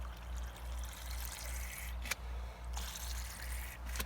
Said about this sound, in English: you can kind of control by just kind of kinking the hose like that.